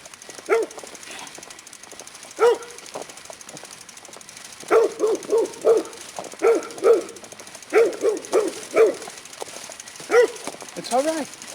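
Dogs bark in repeated short bursts, some in quick runs of three or four, close by at an outdoor camp, while a person talks calmly between the barks.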